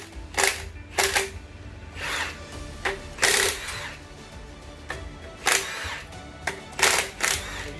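Cylinder head bolts on an engine being cracked loose with hand tools: a series of sharp, close metallic snaps and clicks in irregular bursts, separated by short pauses in a quiet workshop.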